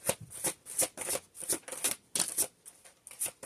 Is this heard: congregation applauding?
no